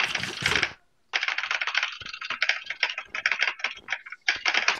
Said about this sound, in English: Listen to how fast I can spam the spacebar.